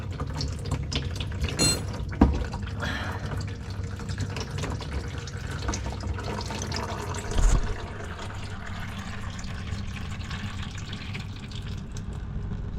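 Fluid drains from the underside of a 1957 oval window VW Beetle in a steady, faint splashing trickle inside a garage, with a couple of brief clanks.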